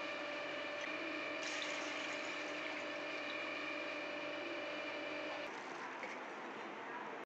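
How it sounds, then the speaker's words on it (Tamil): Roughly 250 ml of water is poured into a pot on a stove for egg pepper sukka, a steady filling gurgle with a rising ringing tone that cuts off abruptly near the end, leaving quieter room sound. "அடுப்பில் பாத்திரத்தை வச்சு 250 ml தண்ணி சேர்த்துக்கலாம்."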